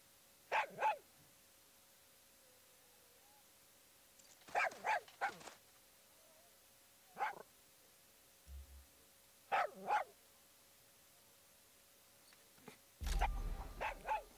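A dog in Far Cry 6 barks in short bursts of one to three yaps, spread across quiet stretches with a faint steady hum underneath, and a low thump near the end.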